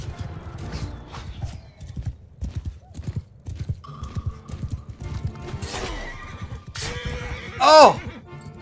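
A horse whinnies loudly near the end amid hoofbeats and game sounds in Mount & Blade II: Bannerlord, with excited voices talking over much of it.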